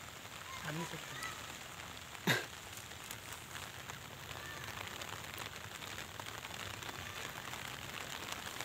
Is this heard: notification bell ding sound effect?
no